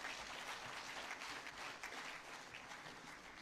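Audience applause at a national population and housing census results event, a steady dense clatter of many hands clapping for the full few seconds, fairly faint and distant-sounding, with no talking.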